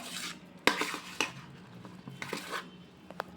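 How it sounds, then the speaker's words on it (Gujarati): A spoon scrapes and clinks against a pan while jaggery churma ladoo mixture is stirred, soft irregular stirring with a few sharper metallic taps, close and fairly quiet. "હવે આપણે બધું જ મિક્સ કરી દઈશું"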